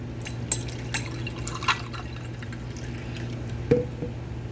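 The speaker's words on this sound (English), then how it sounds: "let me get this poured into a glass so I can show you what it looks like" Sparkling water from a Sparkel carbonation machine is poured into a coffee mug, with soft liquid splashes, drips and a few sharp glassy clinks over a low steady hum, close and fairly quiet.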